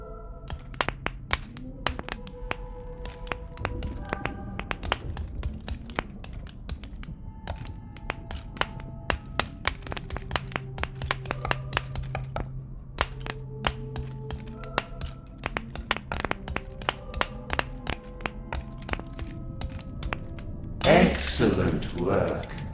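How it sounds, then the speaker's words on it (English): In the VR game Maskmaker, a chisel taps repeatedly into a wooden mask, sharp close knocks in an uneven rhythm over soft tonal music, with a voice speaking at times. "Let the chisel guide you. That sound."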